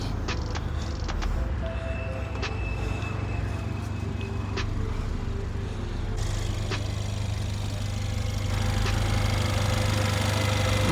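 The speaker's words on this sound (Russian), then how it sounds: "Мотор у нас работает довольно-таки тихо." A Mercedes AMG engine with 234,000 km on it idles steadily under an open hood, a low constant hum with faint clicks and a slight rise near the end, no talk.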